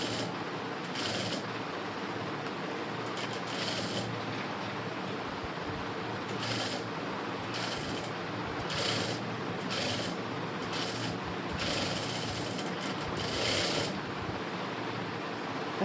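A sewing machine runs slowly and steadily while stitching the curved sleeve of a blouse, giving a soft, continuous mechanical rasp with short bursts of faster stitching in a quiet room.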